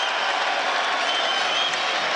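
Basketball crowd at a Calvin vs Hope men's rivalry game cheering and applauding as the Knights stretch their lead, a dense, steady roar of clapping and voices filling the whole stretch at even loudness.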